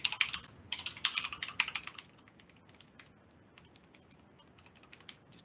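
Keys on a computer keyboard clatter in quick bursts as a password is typed, loud at first and then lighter, scattered taps, close by with no voices.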